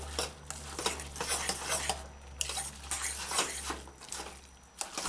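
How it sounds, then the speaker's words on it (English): A fork stirs pumpkin rice with salted fish in a pot on a stove, giving repeated close scraping and clinking strokes in an uneven rhythm, with faint sizzling underneath. "use a fork. Stir it well."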